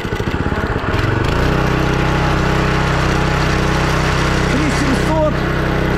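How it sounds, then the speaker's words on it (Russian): A DOZER G7 2BT walk-behind tractor engine starts at a pulsing idle, then revs up to a loud, steady high-speed drone that holds close by to the end. "Максимальные обороты сейчас покажу."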